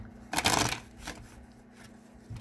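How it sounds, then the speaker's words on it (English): Tarot cards being shuffled by hand during a reading, a close, brisk riffle burst lasting about half a second followed by a few softer rustles and taps in a quiet room. "Let me shuffle it."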